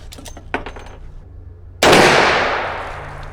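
A single loud rifle shot is fired at a target on a range, a sharp close blast whose echo decays over more than a second, preceded by faint handling clicks.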